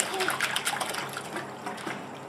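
Water sloshes and splashes in a swimming pool as a young child paddles with dad's help, a steady close wash of liquid with soft bursts and a faint voice underneath.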